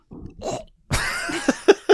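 Several short, sharp coughs burst out one after another near the microphone, following a brief rustle and some low chatter.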